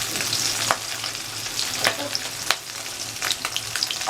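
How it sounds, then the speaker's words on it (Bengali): Puti fish, salted and coated in turmeric, frying in hot oil in a wok, giving a steady broadband sizzle with occasional sharp pops and crackles throughout, close and continuous. "এখন আমি কড়াইতে তেল বসিয়ে দিয়েছি, মাছগুলো একটু ভেজে নেব।"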